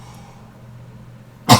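A single sharp sneeze bursts out at the very end after near-silence with a faint low hum, close and loud.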